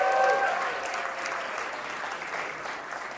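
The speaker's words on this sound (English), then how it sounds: "Loud applause for all the support and help," Wedding guests clap together in a steady burst of applause that starts strongest and tapers slightly, moderately close, with no talk over it.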